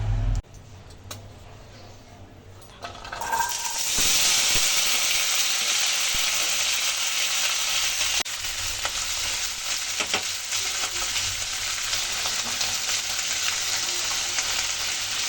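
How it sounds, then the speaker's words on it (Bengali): Vegetables frying in a little oil in a wok: after a brief quieter start, a loud, dense, continuous sizzle swells up close and holds steady, with occasional stirring scrapes underneath. "কড়াইতে আবার সামান্য তেল দিয়ে এবার সবজিগুলোকে ভেজে নেব"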